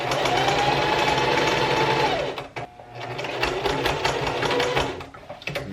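A sewing machine attaches a lined hood to a running hoodie, whirring steadily and close by at a rapid stitch, briefly slowing and pausing partway before picking up speed again.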